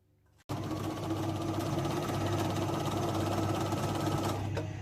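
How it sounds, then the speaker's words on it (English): A sewing machine stitches around the edge of a patchwork Flying Geese quilt, starting abruptly after a brief quiet moment and then running as a close, steady mechanical hum. "just sewing around the edge of the quilt and taking out straight pins"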